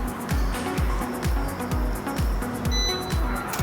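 A short electronic beep from a U99 drone during compass calibration sounds near the end over a steady, pulsing mechanical hum.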